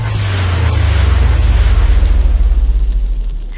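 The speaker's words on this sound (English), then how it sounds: "A number of assistants then lit the rockets all at once and stepped aside." A deep, sustained roaring rumble like many rockets igniting at once, loud and steady for several seconds with heavy low-end power and a fizzing hiss above it.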